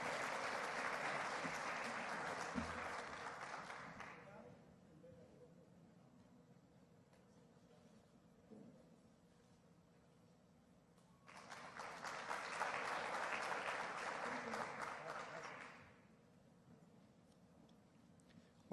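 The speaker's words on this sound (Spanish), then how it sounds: "Un fuerte aplauso para Freddy Guevara" Audience applause for Venezuelan National Assembly deputy Freddy Guevara at a 2016 leaders award ceremony, two sustained bursts of clapping separated by a quieter pause, heard from within the hall.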